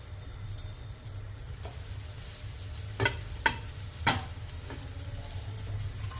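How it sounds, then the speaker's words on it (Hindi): Chana dal patties fry in oil on a tawa, a soft continuous sizzle with a few sharp taps and knocks from the spatula, close and fairly quiet. "तवे पे डालेंगे तेल। अब इस पे डाल देंगे पेटीज।"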